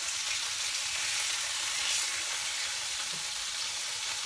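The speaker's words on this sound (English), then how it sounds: "Hear that sizzle. This is still frozen chicken" Frozen chicken sizzles in a hot pan, a steady, bright crackling hiss that stays fairly close and even throughout, with no voices.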